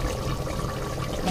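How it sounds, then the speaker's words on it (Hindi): Rice water bubbling and boiling in a cooking pot for mutton biryani, a close, steady watery churn with no talking. "ये चावलों का पानी जो है उबल, मतलब ये उबाल रहे हैं हम"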